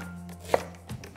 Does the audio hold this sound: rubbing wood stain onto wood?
no